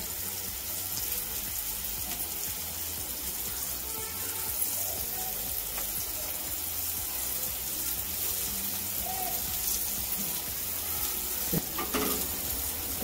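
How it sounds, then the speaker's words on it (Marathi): Surmai fish frying Malvani-style in oil in a pan, a steady close sizzle and crackle running throughout with faint stirring and a brief clatter near the end. "जरा भाजू दे"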